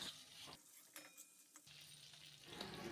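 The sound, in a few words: frying onion, chilli, garlic and boiled potato in a pan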